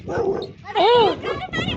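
A dog barks and whimpers at close range in a lively street during Eid meat distribution, with a few yips rising over the chatter of people talking nearby.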